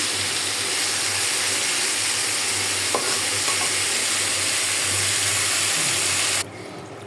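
Fish fried in hot oil in a home kitchen, a continuous steady sizzle with some stirring and clatter, cutting off abruptly near the end.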